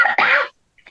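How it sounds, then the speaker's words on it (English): A person with a cold gives a single short cough, a sharp burst followed by a brief rougher tail, then near silence and a faint trailing breath or murmur. "But now I'm going to cough."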